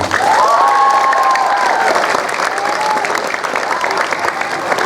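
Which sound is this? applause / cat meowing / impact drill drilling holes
applause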